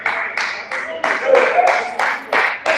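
A basketball substitute clapping at a live game, about ten firm, evenly spaced claps close by, with a commentator talking over them.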